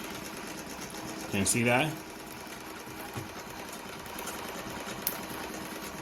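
A Phoenix model 228 sewing machine stitches in a brief whirring burst of about half a second, then stops, with a voice talking over the quieter surroundings before and after.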